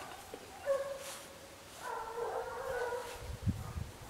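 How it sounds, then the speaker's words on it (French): Distant hunting dogs barking and yelping outdoors during a wild boar hunt in an enclosure, a few short bursts with brief quiet between, faint against a soft background hiss. "Ah, c'est les chiens Seb qui sont liés à Denis"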